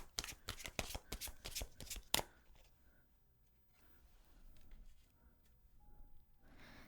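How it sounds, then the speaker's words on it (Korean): Tarot cards are drawn from a deck with a rapid burst of close, crisp card flicks and slaps, ending in one sharp snap, then near silence with faint room noise. "마지막으로 조언 카드 2장 뽑아볼까요?"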